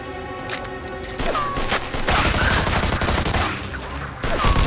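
Heavy gunfire from the video game Mafia II: Definitive Edition, with rapid overlapping shots and bursts cracking close and loud over a busy background, some voices mixed faintly under the volleys.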